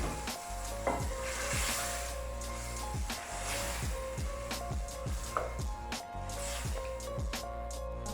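Boiled chickpeas being stirred into sizzling masala in a pan for cholay: a steady frying hiss with repeated scraping knocks of a spoon against the pan in a regular rhythm, close and moderately quiet.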